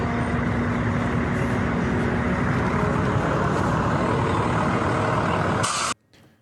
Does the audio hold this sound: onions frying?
no